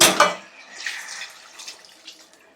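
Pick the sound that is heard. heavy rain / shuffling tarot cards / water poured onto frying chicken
water poured onto frying chicken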